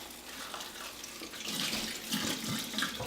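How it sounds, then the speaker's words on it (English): Boiling water poured in small splashes over ground deer meat sitting in a colander, a steady close trickling and spattering that swells louder in the second half. "take your boiling water and just pour a little bit over it at a time"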